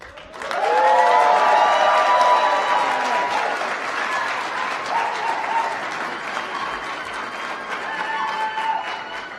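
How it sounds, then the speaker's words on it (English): Audience applause with some cheering fills a 2019 Executive MBA graduation ceremony, a dense, sustained round of clapping that starts loud and slowly eases without fading out, with no one talking over it. "Please give another round of applause to all of our graduates"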